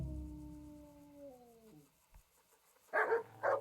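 A small dog in the game Kingdom Come Deliverance whimpers in long, falling whines that trail off, then after a brief pause gives two short, sharp yips close by.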